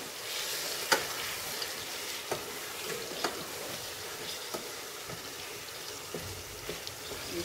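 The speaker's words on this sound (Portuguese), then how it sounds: "Vou mexer aqui no meu frango." Soft, steady sizzling of chicken with garlic frying in a pan on a wood-fired stove, with occasional scraping clicks of a utensil stirring.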